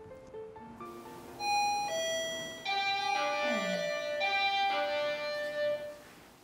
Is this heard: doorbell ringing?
yes